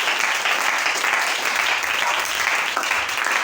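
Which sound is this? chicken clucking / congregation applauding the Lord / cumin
congregation applauding the Lord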